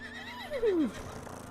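A single short horse whinny in the video game Red Dead Redemption 2, falling in pitch, over a steady low background hum.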